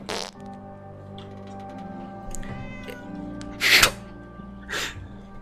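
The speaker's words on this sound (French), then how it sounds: "Attends, j'ai entendu un chat." A cat meowing during a Fallout 4 stream, several drawn-out close meows and a rough caterwaul-like cry with a couple of sharp breathy bursts in between, no talk.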